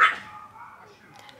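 Dogs, a big one and a small one, bark back and forth indoors, a loud bark at the start followed by fainter whimpering yips, with no one talking over them.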